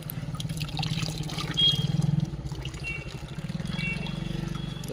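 Water from a tubewell splashes and trickles steadily as feet are washed outside a temple, a close, continuous gurgling flow that pulses slightly in rhythm.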